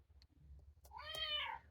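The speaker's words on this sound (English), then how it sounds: "There's a pussycat." A cat meow plays from a children's farm sound book: a single, clear, rising-and-falling meow near the end, after a few faint clicks and soft background noise.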